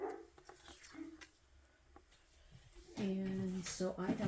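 Cooper, a dog outdoors, barks and yips a few times in the distance under close-up talking, the barks growing louder toward the end.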